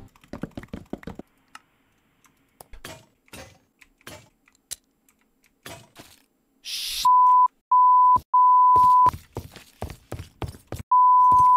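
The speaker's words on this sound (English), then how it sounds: "I got a new keyboard. It's so loud clicking in my ears and everything." Loud clicky typing on a new computer keyboard during a Minecraft RLCraft game, with rapid bursts of close key clicks and pauses, broken up by a crash and several long, loud electronic beeps.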